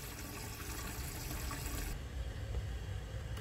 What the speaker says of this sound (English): The flush is really awesome